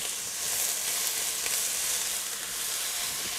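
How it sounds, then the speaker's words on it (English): Grated fresh ginger sizzles steadily in a hot pan for chow mein, a dense, even frying hiss that stays close and constant throughout. "now I'm going to add the fresh ginger that I grated earlier mix it up"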